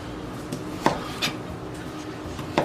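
A knife chops through smoked sausage on a cutting board, giving a few sparse, soft knocks at uneven intervals over a low background hum.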